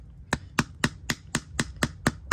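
A hammer striking metal to flatten it during rear seal replacement on a Scion tC, nine sharp evenly spaced ringing blows, close and loud, about four per second.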